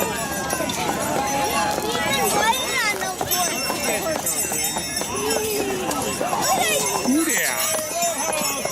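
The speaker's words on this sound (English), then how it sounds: "There's the horse." Horse hooves clip-clop among a busy crowd at an outdoor winter festival parade, close by and mixed with voices, chatter and a brief whinny-like call near the end.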